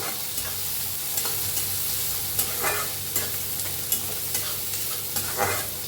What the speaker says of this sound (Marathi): आता मिक्स करून छान भाजून घेऊया कांद्याला.